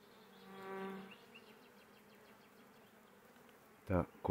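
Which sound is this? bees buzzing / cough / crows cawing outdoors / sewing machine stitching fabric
bees buzzing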